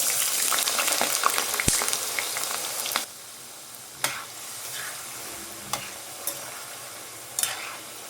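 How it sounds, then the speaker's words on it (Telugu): Potato pieces drop into hot oil on a low flame and sizzle loudly at first, then settle to a quieter steady frying hiss punctuated by occasional sharp pops and stirring clicks. "ఇప్పుడు ఇందులో వేసుకుని ఫ్రై చేసుకుందాం."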